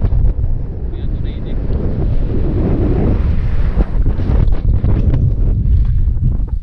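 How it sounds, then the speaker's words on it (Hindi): Strong wind at Kalpa in Kinnaur buffets the microphone during a ride, a loud, continuous roar with gusty low rumble throughout. "बहुत ज़्यादा बहुत तेज हवा दे रहे"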